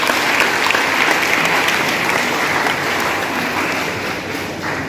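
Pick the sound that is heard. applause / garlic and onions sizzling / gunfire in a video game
applause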